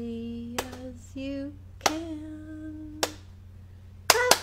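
Hands clapping at a children's storytime session: a few sharp, separate claps spaced about a second apart, with a tonal, sung-sounding voice carrying between them.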